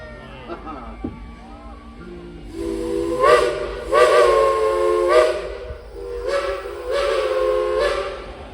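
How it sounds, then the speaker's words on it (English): Steam locomotive whistles from engines #504 and #14 sound back and forth in a series of long, loud blasts with hissing steam, following an opening stretch of crowd chatter. "you heard the whistles back and forth"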